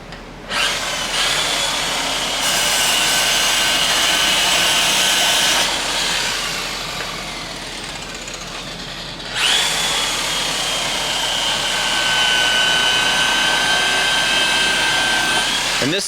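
A 40 ply buffing wheel polishing aluminum to a show finish, running at about 2200 rpm, gives a loud continuous whirring hiss with high whine that rises and dips as the workpiece is pressed and eased off.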